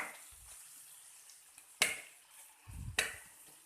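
Egg mixture with onion frying in a pan and stirred with a spoon: soft steady sizzle with two sharp scraping knocks of the spoon and a low rumble between them, fairly faint and with no talk.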